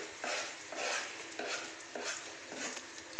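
Ground spices (turmeric, chili, cumin, coriander, chicken masala and salt) fry in a pan for chicken biryani while a spatula stirs in steady, rhythmic scraping strokes over a soft sizzle, close and alone.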